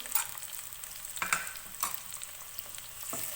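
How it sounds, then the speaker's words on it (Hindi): Tomatoes fry on medium flame in a pan for aloo katliyan, giving a steady close sizzle with a few scraping stirs of the spoon, and no voices. "टमाटर को सॉफ्ट होने तक पकाएंगे मीडियम फ्लेम पे।"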